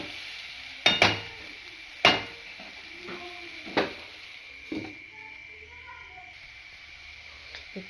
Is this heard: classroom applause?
no